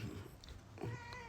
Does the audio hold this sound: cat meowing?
yes